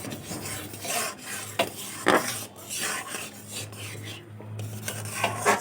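Chili flakes are stirred into thick raw mango pulp for aamsotto, with repeated close, wet scraping and rubbing strokes of a spoon against a bowl, uneven in rhythm.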